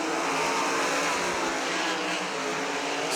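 Super sprint race cars roar steadily around the dirt oval at Millstream Speedway, a dense, loud engine wash that holds throughout without a break.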